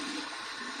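Water runs steadily into a synthetic shaving brush knot, a soft continuous splashing hiss held close and even throughout.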